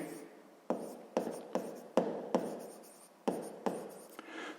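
Chalk or marker writing math on a classroom board during a sixth-grade lesson: a series of sharp taps and short scratchy strokes at an irregular pace, close and fairly quiet, with no talking over them.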